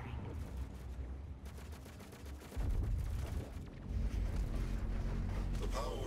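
The BFG 10,000 firing in DOOM Eternal, heard as a heavy, rumbling barrage of booming blasts and crackling impacts that swells louder partway through and keeps thundering to the end.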